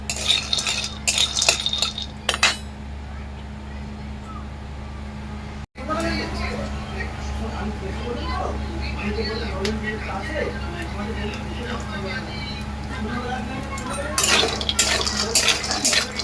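Spices dry-roast in an oil-free pan while a utensil stirs and scrapes, clinking against the metal with a low steady background hum, busier scraping bursts at the start and end.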